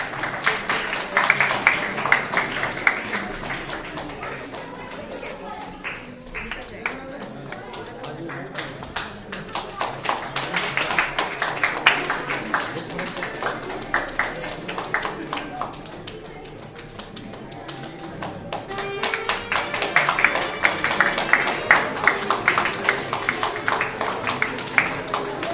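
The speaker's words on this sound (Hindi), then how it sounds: "तालियां रुकनी नहीं चाहिए।" An audience at a sports award ceremony claps steadily and continuously, a dense patter of hands that swells and dips slightly, with a voice faintly audible in the background.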